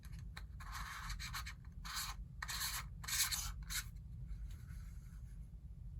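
A polarizing filter threaded onto a camera lens outdoors, giving short, close scraping and rubbing bursts of metal turning against metal over a low steady rumble of wind or ambience.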